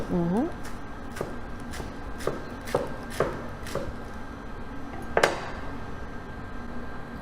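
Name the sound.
knife finely chopping lettuce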